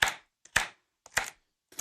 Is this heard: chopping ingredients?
yes